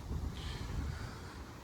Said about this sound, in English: You can still see and hear it's windy, right?